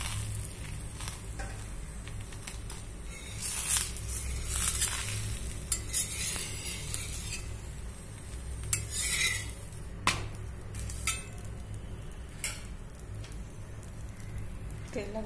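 Paratha cooking on a pan for a veg roll, with a steady low sizzle and occasional clinks of utensils and stirring throughout; no talking is heard.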